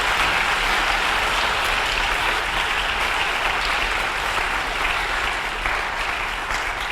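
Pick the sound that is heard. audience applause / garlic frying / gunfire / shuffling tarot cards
audience applause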